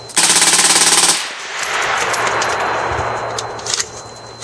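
A rifle with a CDD DuraHeat barrel empties a C-Mag drum in one loud, rapid full-auto burst lasting about a second. Ringing and outdoor noise follow, with brief clicks and rattles near the end.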